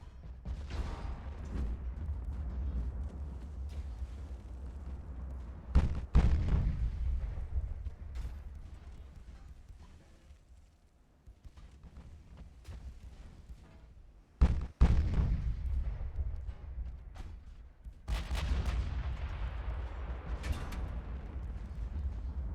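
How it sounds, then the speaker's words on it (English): Heavy naval guns firing during a close-range battle in Ultimate Admiral: Dreadnoughts, heard as deep, rumbling booms. Two sharp loud blasts stand out against continuous low battle rumble and scattered thuds. "That was their heavy gun."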